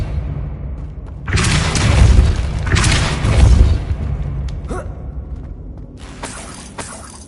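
The Depulso force spell fires in Hogwarts Legacy, two heavy bursts of shattering, booming noise a second or so apart, then quieter impacts and a final crashing hit, loud game effects without speech.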